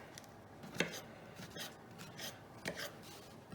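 Knife chopping mushroom on a board while making a calzone, a few quiet, sharp cuts spaced irregularly, close and soft with no talk.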